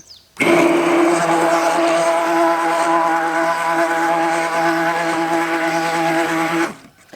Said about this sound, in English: I'm going to use my stick blender, burp it.